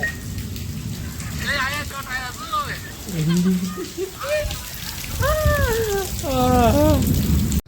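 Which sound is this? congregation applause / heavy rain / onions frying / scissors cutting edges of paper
heavy rain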